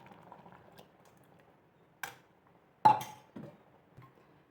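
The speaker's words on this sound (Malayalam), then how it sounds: "പുളിയിട്ട് നന്നായി തിളച്ച് വരുന്നുണ്ട്" Sambar with tamarind, okra, drumstick and tomato boiling in a pot, heard as a faint bubbling simmer broken by a few sharp close clinks and knocks against the vessel.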